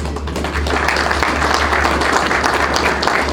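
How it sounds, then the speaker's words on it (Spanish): An audience applauds at a national congress of municipalities in Peru, steady dense clapping from a crowd in a hall, sustained for a few seconds. "Lo recibimos con un fuerte aplauso."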